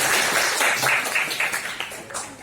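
Audience clapping after a debate, a steady patter of many hands filling the room, fairly loud and sustained with small swells, no voices over it.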